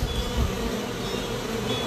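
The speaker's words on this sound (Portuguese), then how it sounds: "Nossa, tem muita abelha ali." Brazilian stingless bees swarm and buzz around their hive box outdoors, a dense steady drone close to the mic with no talk.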